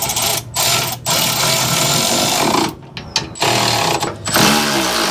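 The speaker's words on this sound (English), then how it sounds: "it looks like that is going to allow us to use this little Milwaukee to tighten this" A small Milwaukee cordless impact tool with a wobble extension tightening a Timbren bump stop bracket on a 2022 Toyota Tundra, loud rattling hammering in long bursts separated by brief pauses.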